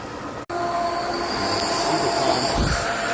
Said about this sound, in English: what this looks like when you turn it on and prime the pump